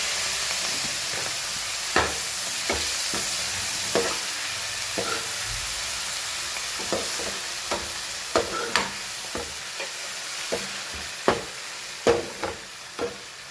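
Fresh fenugreek leaves fry in a pan with green garlic, a steady soft sizzle broken by a long run of irregular scraping stirs, close and moderately quiet with no talk.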